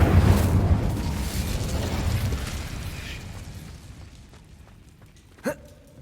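Incendio fire spell cast in Hogwarts Legacy: a loud whooshing burst of flame that roars up immediately and slowly fades, followed by a brief sharp pop near the end.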